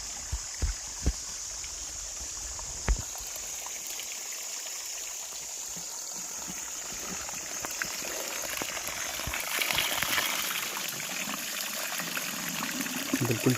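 Natural spring water flowing in woods, a soft continuous trickle and babble at low level, with a few light knocks early on and the flow swelling slightly toward the end.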